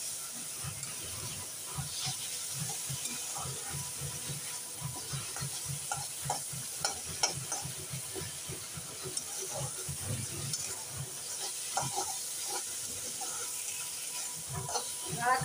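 Spice paste for a prawn and jackfruit curry frying in oil and being stirred, with steady close sizzling under repeated scraping strokes of a spoon on the pan throughout.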